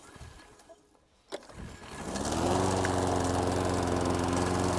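A lawn mower engine starts up after a quiet moment, then runs steady and loud close by as it slowly cuts through tall spring grass.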